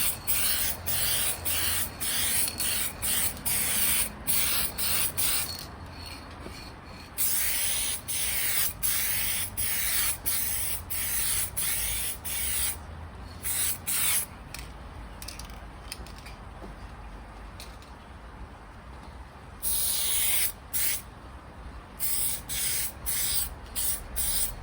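A spray can hisses out paint onto a Vauxhall Corsa B repair panel, with long steady bursts broken by brief pauses and short gaps, loud and close throughout.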